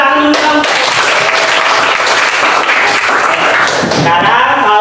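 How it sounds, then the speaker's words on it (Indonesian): A class of students claps their hands together, a dense, loud burst of many hands sustained for several seconds, with voices mixed in at the start and end. "Tepuk tangan dulu dong."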